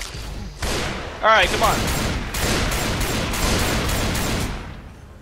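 Rapid blasts from an auto shotgun in Left 4 Dead 2 ring out in a steady string of loud, closely spaced shots, with a brief voice exclaiming partway through and game sounds underneath.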